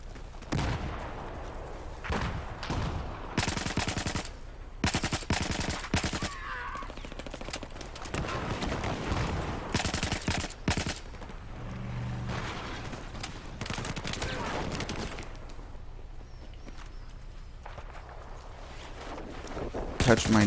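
Video game gunfire crackles in rapid bursts and scattered single shots throughout a close-quarters match, loud and sharp, while a commentator keeps talking over the action.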